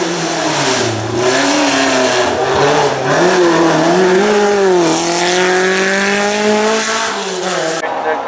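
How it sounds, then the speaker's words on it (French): A Volkswagen Golf GTI 16S Group A race car engine revs and accelerates loudly at a historic hill climb, its pitch climbing and dipping through gear changes, with crowd or commentary noise faintly underneath. "Une Golf GTI 16S Groupa, une vraie voiture de"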